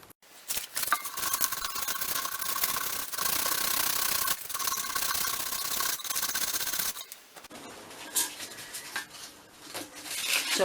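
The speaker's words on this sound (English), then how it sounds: "we're just going to start by rubbing it down" Hand sanding of an old embossed tin, steady abrasive rubbing that strokes continuously in one direction, close and fairly loud, with a brief pause before rougher, patchier scraping in the last few seconds; no talk.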